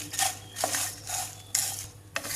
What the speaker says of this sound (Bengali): কিছুক্ষণ নেড়ে চেড়ে একটু ভেজে নিলাম